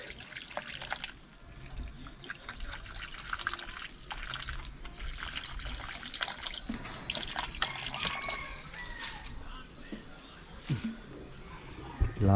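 Clean water is poured into a container for pet fish, a steady splashing trickle with scattered drips close by and a faint murmur in the background.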